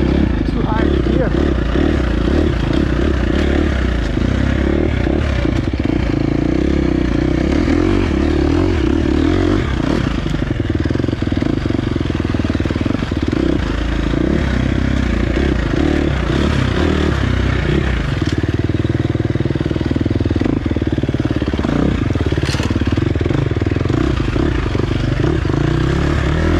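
A 2023 KTM 350 XC-F dirt bike ridden on a river loop trail, its engine droning and surging continuously with scraping and clattering from the terrain, loud and close throughout, with wind buffeting.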